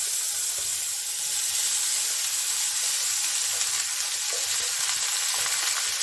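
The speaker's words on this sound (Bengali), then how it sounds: "এই ভাতটাকে আমি এখন এটার সঙ্গে আমি এটাকে ভেজে নেব।" Cooked morning rice with a little turmeric frying in a pan, giving a steady, close, continuous sizzle and hiss throughout with no voices.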